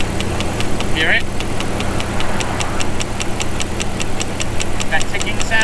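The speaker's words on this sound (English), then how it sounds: "That's the solenoid for the EVAP. It's a sure sign that that thing is shot." Faint, rapid, regular ticking from a failing EVAP solenoid on an idling 1997 Jeep Grand Cherokee ZJ, sitting under a steady engine hum, with a brief voice partway through.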